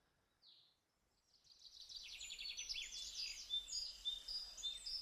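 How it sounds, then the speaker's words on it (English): Birds chirp and trill on a quiet Adirondack forest trail, a few high clear calls in a bright cluster after a near-silent start, faint and distant over a soft background hush. "It's just silence other than birds chirping."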